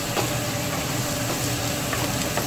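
Garlic, cumin and ginger paste sizzles in hot oil, a dense, steady hiss with faint crackles and a low background hum, heard continuously without talk.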